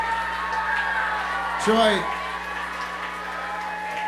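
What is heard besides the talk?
crowd noise and applause at a live performance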